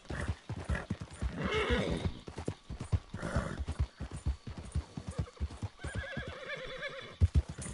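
A horse in Red Dead Redemption 2 gallops with rapid, loud, close hoofbeats, whinnying repeatedly over the pounding rhythm.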